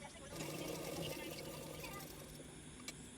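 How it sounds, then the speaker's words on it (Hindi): A sewing machine runs steadily while stitching a strip on a baby blouse, with a continuous whirring drone held at moderate level throughout. "उसके बाद फ्रंट साइड की तरफ इस तरह से फोल्ड करके सिलाई कर लूँगी"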